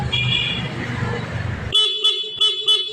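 After a short stretch of background noise, the horn of a Honda Beat scooter sounds in four quick, bright toots close by. The horn works again after a blown fuse was repaired.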